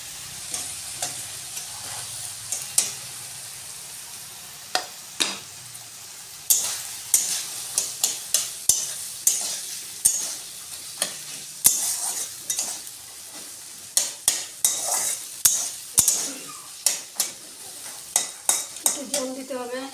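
Green peas are stir-fried with softened tomatoes in a pan: a quiet bed of sizzling broken by many quick, clattering spoon strokes against the metal, coming in busy bursts throughout.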